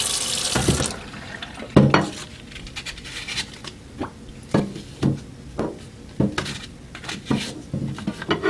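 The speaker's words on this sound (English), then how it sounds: "Get it wet, get your receiver wet." Water runs from a tap to wet 800 grit sandpaper and a paintball marker receiver during polishing, with a steady splashing stream broken by repeated sharp taps and knocks of the parts in the sink.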